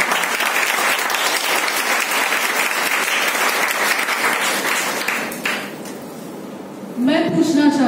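Dense audience applause at a seminar on financial freedom, steady and loud for about five seconds before fading out, after which a voice starts speaking.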